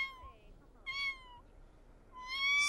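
Cartoonish cat meows from The Sims 4 game, three separate calls spread across a few seconds, clear and fairly close, with faint game ambience beneath and no talking.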